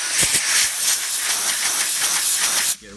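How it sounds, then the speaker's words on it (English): Compressed air blasting into a Ford power running board mechanism, a loud sustained hiss that cuts off abruptly at the end. "I like to use some compressed air."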